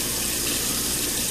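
Water from a bathroom sink faucet runs in a steady, even rushing stream, close and continuous throughout, with no voices over it.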